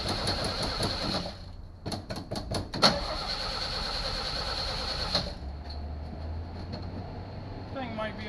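A Chevrolet Biscayne engine fitted with a brand-new carburetor cranks in a quick run of rhythmic turns, then settles into a steady, fairly quiet idle heard up close.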